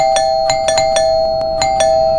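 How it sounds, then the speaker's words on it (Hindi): A doorbell is rung repeatedly, giving seven or eight rapid, bright chimes at irregular spacing, loud and close with nothing else behind it. "कौन पागलों की तरह घंटी बजा रहा है?"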